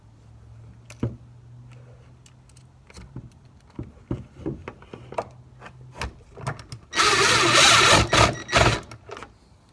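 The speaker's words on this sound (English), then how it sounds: "I will be using my impact driver fitted with the Phillips head tip to help speed along this process" An impact driver with a Phillips tip drives screws while assembling a foosball table, with scattered clicks and taps before a loud rattling burst of hammering near the end.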